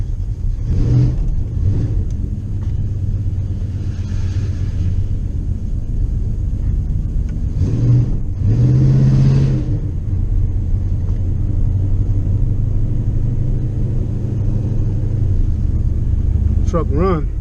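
A pickup truck engine rumbles loudly and continuously while driving, a deep steady drone with a couple of brief rises in pitch, close up and dominant throughout.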